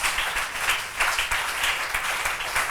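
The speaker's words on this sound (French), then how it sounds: "On acclame le nom de Jésus-Christ." A church congregation applauds together during a French-language sermon, producing dense, steady clapping that holds at an even, fairly loud level for the whole stretch with no voices above it.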